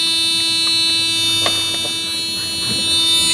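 A car's headlight switch panel sounds its warning buzzer, a steady electronic tone held throughout at moderate level, with a few faint clicks and handling noises underneath.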